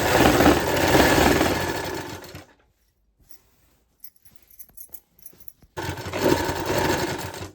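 A sewing machine stitches a godhadi quilt sewn from old saris, running in two loud, steady bursts of a few seconds each with a quiet pause of faint handling clicks between them.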